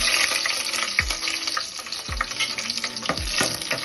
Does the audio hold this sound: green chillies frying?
yes